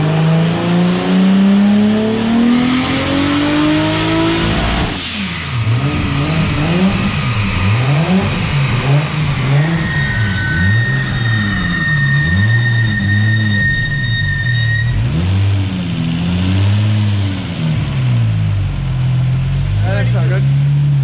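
A stock twin-turbo Toyota Supra engine screams on a dyno, revving hard and climbing steadily, then the note breaks into rough, fluctuating surging as the engine fails; loud throughout, with voices talking over it.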